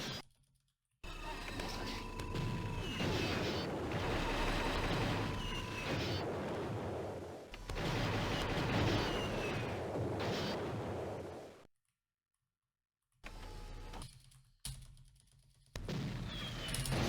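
Turrets fire in the DOS video game Cyber Police: loud, dense bursts of rapid shots come in long sustained volleys, broken by brief silent gaps and a few shorter clipped bursts near the end.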